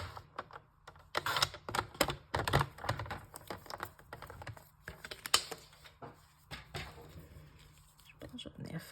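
Small piece of paper being cut for a mini slimline Stampin' Up! card, a series of soft, brisk snips and rustles scattered irregularly, close and fairly quiet, with occasional movement noise between cuts.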